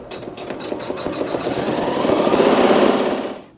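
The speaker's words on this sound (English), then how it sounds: "For step 13, we are placing thread A in the needle only, and we're going to sew some embroidery." A sewing machine stitching embroidery with thread in the needle, a rapid close mechanical whirr of needle strokes that builds in speed and loudness before slowing to a stop.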